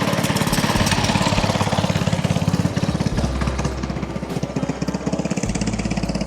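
A vintage Scorpion snowmobile engine runs near and loud with a rapid, rough two-stroke chatter, pitch rising and falling as it revs and pulls away at a snowmobile show and swap meet.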